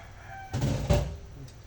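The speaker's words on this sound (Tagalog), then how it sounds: "Pasensya na kayo sa ingay ng ating mga chicken manok sa ating kapitbahay." Rooster crowing from a neighbour's yard during home cooking of sinigang, one drawn-out crow rising loud over a quiet kitchen background, then fading into a soft tail.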